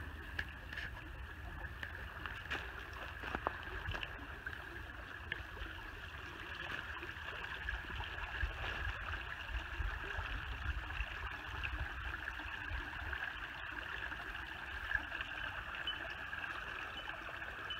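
A creek flows softly, with a quiet, steady babble of running water and a few faint clicks and knocks, no one speaking.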